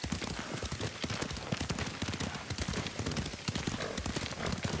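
Horse hooves clip-clopping at a steady riding pace in the samurai game Ghost of Tsushima, a quick rhythmic run of hoofbeats close up and fairly quiet throughout, with no voices over them.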